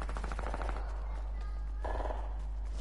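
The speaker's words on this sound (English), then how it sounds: "stop it with the auto shooting" Rapid automatic gunfire rattles through a video game match in quick bursts of clipped shots, fairly faint under a constant low hum, with one short louder burst near the end and no talking.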